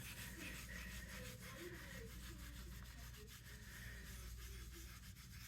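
Gilding flakes are rubbed off a glued craft surface in a steady, continuous scraping and brushing, quiet and close, with low background hum and no talking.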